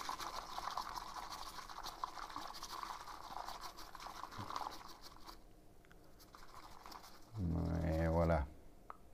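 Water is poured into a matcha bowl with a soft, steady trickling splash, close and quiet, followed by a short burst of speech.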